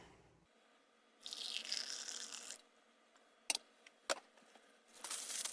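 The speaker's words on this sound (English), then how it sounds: "Add our 6 ounces of boiling water." Boiling water poured from a pouch into an MRE coffee cup, a steady hissing rush of liquid lasting about a second and a half, followed by a few sharp handling clicks and another burst of pouring.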